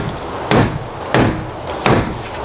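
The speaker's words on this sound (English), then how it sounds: "Next, we're gonna use a center punch and mark the center of these holes." Three sharp metallic taps from a center punch marking hole centers on a spare wheel mount for a Lexus GX470, evenly spaced about two-thirds of a second apart, each a bright hammer-like strike with a short ringing decay, close by.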